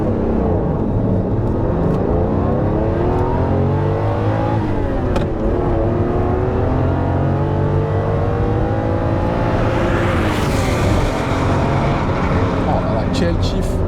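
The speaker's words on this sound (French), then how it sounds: "Je suis obligé de vous faire un petit 0 à 100 km/h, forcément. Ferrari Testarossa, les amis." A Ferrari Testarossa accelerates hard from a standstill to 100 km/h. Its engine note climbs loudly and continuously through rising sweeps, with brief drops at each gear change.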